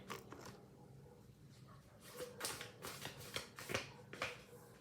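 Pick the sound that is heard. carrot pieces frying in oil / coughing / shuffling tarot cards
shuffling tarot cards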